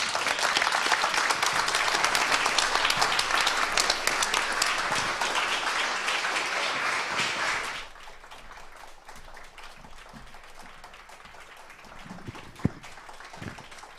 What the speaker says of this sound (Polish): I szanowni Państwo, wielkie brawa. Igor Zakus.